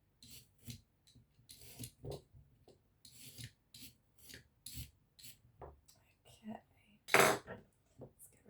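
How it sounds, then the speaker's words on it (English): Vegetables chopped as small as possible for a spaghetti bolognaise sauce, a knife tapping and scraping on a board in an irregular run of close strikes, one louder scrape near the end. "So I'm going to chop them up as small as I can manage."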